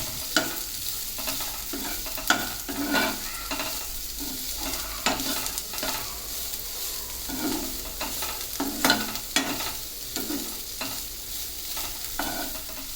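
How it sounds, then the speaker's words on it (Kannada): Two chopped medium onions fry in a pan alongside beetroot cutlet preparation, giving a continuous close sizzle broken by repeated scraping strokes of a spatula as they are stirred. "ಈರುಳ್ಳಿ ಕೂಡ ಸ್ವಲ್ಪ ಕೆಂಪಾಗೋ ತನಕ ಹುರಿದುಕೊಳ್ಬೇಕು"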